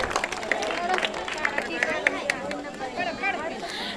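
Audience clapping for a prize winner at a Home Minister community event held by Amarjyoti Pratishthan, Santoshi Nagar, with scattered crowd applause mixed with chatter and a voice speaking over it.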